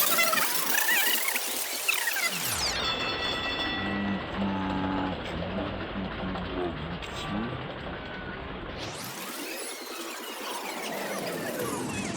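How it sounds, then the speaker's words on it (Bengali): A train pulls away in a dense, continuous roar of rolling wheels with metallic squealing and a steady hum, close and loud, swelling and sweeping as the carriages move past. "রেলগাড়ি আবারও ছেড়ে দিল"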